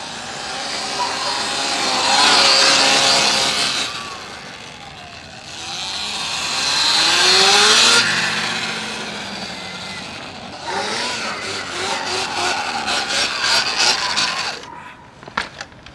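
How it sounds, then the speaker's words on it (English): A Sur-Ron electric dirt bike with a chain drive whirs and whines through several riding passes, rising to a loud pull, easing off and building again, with a faint voice heard over it. "it's going to be louder just because it's spinning more, but also because of the chain drive"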